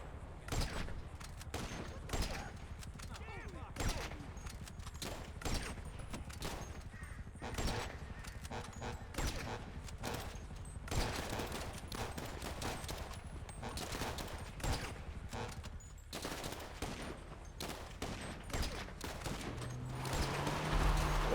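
Gunfire from a GTA Online heist setup mission fills the scene: dense, rapid volleys and bursts of automatic shots crackle almost without pause, loud and close, with heavy thuds underneath.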